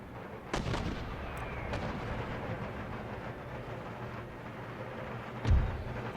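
Mortar artillery fires during a battle on Martinique in Empire Total War, with a sharp booming report early, a few distant thuds over a rumbling battlefield bed, and another heavy low blast near the end.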